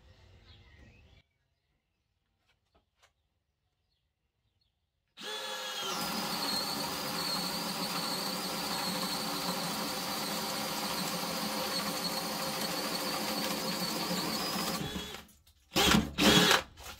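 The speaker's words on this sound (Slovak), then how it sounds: "Začíname vŕtačkou Dewalt na prvej rýchlosti, režim vŕtania, 4 Ah batéria, plne nabitá pre test." A DeWalt DCD 790 cordless drill on first speed with a 4 Ah battery whirs steadily for about ten seconds after a quiet start, boring a 65 mm hole in wood, then stops, followed by a couple of brief bursts of sound.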